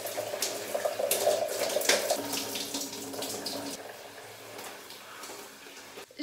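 Water runs steadily from a shower, a close splashing hiss with irregular spatters that gradually softens toward the end.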